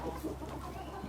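Chickens clucking softly on a poultry farm with layer hens, faint and fairly close, with no talk over them.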